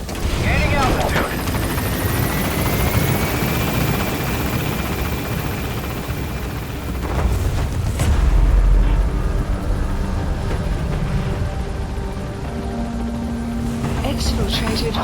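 Helicopter lifting off from a landing zone in the video game Metal Gear Solid V: The Phantom Pain, a steady rotor and engine roar throughout with a swelling surge partway, radio voices talking over it.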